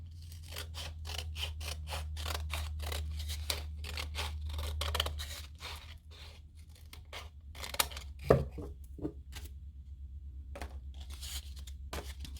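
Paper being trimmed with scissors in a quiet room for paper flowers, a rapid series of crisp, close snips in bursts, with pauses and a low steady hum underneath.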